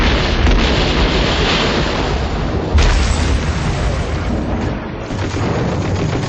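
German artillery shells exploding during the WWII battle of Stalingrad, a dense continuous roar of booming blasts and rumbling bursts, loud and unbroken, with one sharper impact partway through.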